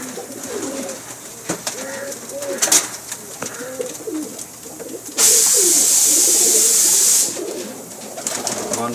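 Pakistani Banke cross Teddy pigeons coo in soft repeated low calls close by, with a few clicks and taps between, then a loud two-second hiss of spray before the cooing resumes.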